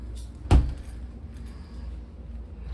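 A single close thud of a hotel room door swinging shut or bumping, brief and fairly loud over quiet room tone.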